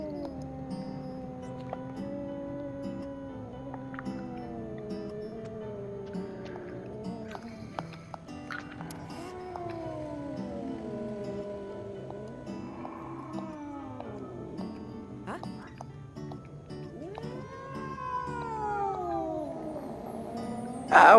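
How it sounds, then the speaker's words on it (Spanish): A kitten meows repeatedly in the horror game DreadOut 2, drawn-out wavering cries recurring over a continuous ambient game soundscape, with the last calls rising louder and higher. "Gatito."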